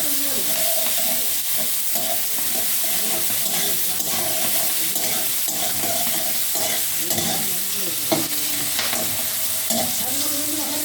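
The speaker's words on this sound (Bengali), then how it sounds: "এবার সিম আর বেগুন একটু ভালো করে ভেজে নিই, একটু নুন হলুদ দিয়ে" Flat beans and eggplant sizzle steadily in hot oil with salt and turmeric, a dense continuous frying hiss with occasional stirring scrapes, close and loud, with no voices.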